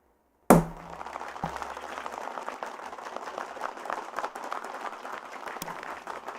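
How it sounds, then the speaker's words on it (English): A sharp thump opens, then a live show audience breaks into sustained applause for the host, a dense, even patter of many clapping hands at moderate loudness that carries on to the end. "I'd like for you all to give a round of applause to the host."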